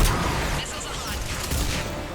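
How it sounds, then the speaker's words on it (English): Missile launches in Mass Effect 3 on Thessia, a dense, continuous roar of rapid firing and booms from a battle, loud and steady throughout, with a voice heard speaking over the barrage. "Missiles away."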